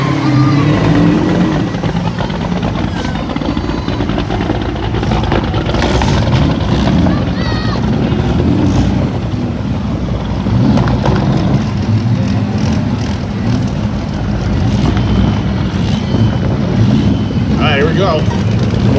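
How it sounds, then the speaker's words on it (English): Two-stroke rear-mounted diesel semi truck engines rev loudly and continuously at a drag race start line, a dense, rumbling roar under an announcer's voice. "Two-stroke rear-mounted diesel here in the right lane."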